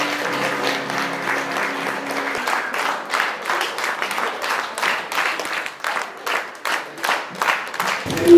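Dense, sustained audience applause after a children's theatre performance by a studio, with many hands clapping at once, a steady roar that swells slightly and ends abruptly.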